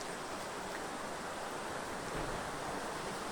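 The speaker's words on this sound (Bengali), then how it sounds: "পাহাড় থেকে জল আসছে, এই জলগুলো সব পাহাড় থেকে আসছে ওপর থেকে" Mountain water rushes down continuously near Kalpa in Himachal Pradesh, a steady broadband roar of flowing stream water with no voices over it.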